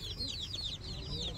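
Chickens cluck repeatedly on a village farm, a flock of hens making soft, rapid overlapping calls at a moderate distance against a quiet outdoor background.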